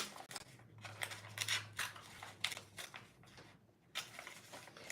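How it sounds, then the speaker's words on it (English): Scissors snip a strap connector hole into sewing fabric, giving a close run of quick, irregular cuts and crisp blade snaps with short pauses between them. "I'll just cut your hole for you."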